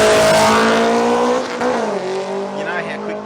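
A Honda drag car with a 2.4-litre K24 engine races at the Jamboree sports compact drag meet in Brisbane, its loud high-revving engine whine falling in pitch as it passes, with a commentator talking over it.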